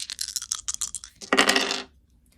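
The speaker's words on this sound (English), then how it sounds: "So they're going to shake the dice" Dice for a Left Center Right game shaken in a cup as a run of quick rattling clicks, then a short loud clattering burst as they tumble out and settle, close up with no voices.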